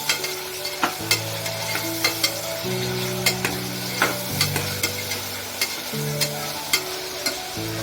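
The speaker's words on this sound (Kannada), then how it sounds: "ಹಾಗೆ ಕಟ್ ಮಾಡಿದಂಥ ಟೊಮೆಟೊನ ಆ್ಯಡ್ ಮಾಡ್ಕೊಳ್ಳಿ. ಚೆನ್ನಾಗಿ ಮಿಕ್ಸ್ ಮಾಡಿ." Chopped tomatoes stirred in a pan for tomato rice, a spatula clicking and scraping every second or so over a soft sizzle, with steady background music throughout.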